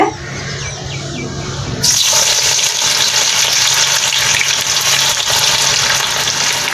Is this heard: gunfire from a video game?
no